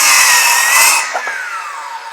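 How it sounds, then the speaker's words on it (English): A Ryobi One P508 brushless cordless circular saw cutting through hardwood, loud and close, its whine holding steady through the cut, then dropping in pitch as the blade spins down alone. "today I have a Ryobi 1 brushless skill saw. This one is the P508"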